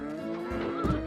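A horse whinnies briefly in the video game Harvest Moon: Hero of Leaf Valley, a short close nasal cry with a rising tonal squeal near the end.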